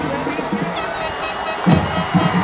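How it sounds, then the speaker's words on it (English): Spectators at a high school football game between Shaler Area and Butler Area roar and cheer in a loud, swelling wash of crowd noise, heard under a commentator's excited talk. "Crowd as loud as it's been all night"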